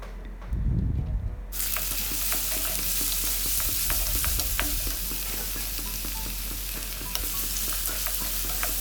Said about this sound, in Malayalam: ചട്ടിയിൽ കുറച്ച് വെളിച്ചെണ്ണ ഒഴിച്ചിട്ട് ഉലുവയും ഉണക്കമുളകും കരിവേപ്പിൻ്റെ ഇലയും പിന്നെ കുറച്ച് ഉള്ളി ഇട്ടിട്ട് നല്ലോണം മൂപ്പിച്ചെടുക്കാം